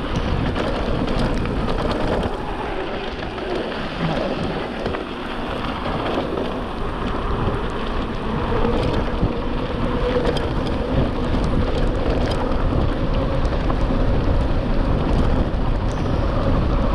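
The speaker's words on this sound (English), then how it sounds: "A little rain action." Rain falls steadily and continuously on a forest road during a mountain bike ride, a dense even hiss with occasional crackles that holds at the same level throughout with no talking.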